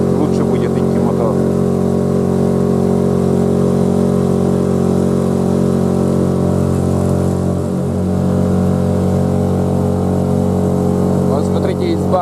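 Outboard motor driving a loaded boat on a river while hunting in Komi, a loud steady drone with strong harmonic hum, unbroken apart from a brief dip in pitch partway through.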